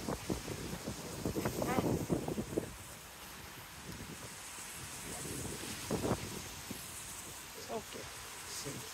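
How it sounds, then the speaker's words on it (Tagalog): Wind gusts buffet the microphone during a winter stroll outdoors, a low rumbling roar with uneven bursts that rise and fall, with people talking intermittently underneath. "It's windy."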